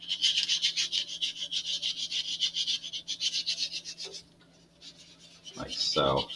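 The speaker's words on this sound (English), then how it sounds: "So I need to make sure that I'm at least sanding over it." An Estes Mini Mean Machine model rocket's rounded wooden edge with wood filler is hand-sanded in rhythmic back-and-forth strokes, close and fairly loud, with a brief pause before a short burst of speech near the end.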